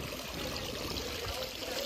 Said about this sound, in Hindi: कितनी प्यारी आवाज आ रही ना पानी की